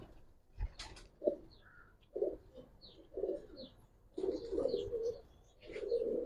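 Giribaz pigeons coo in a loft, a string of short throaty coos arriving in separate bursts with brief quiet gaps, close and clear.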